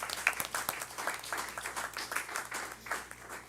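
An audience at a county school board meeting claps for honored achievers: a moderate, scattered round of hand claps with uneven rhythm, heard from within the room and fairly soft overall.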